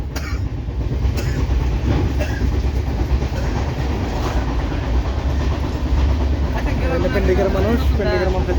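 Inside a moving passenger train, a loud continuous rumble carries rhythmic clickety-clack from the rails, with voices murmuring underneath throughout.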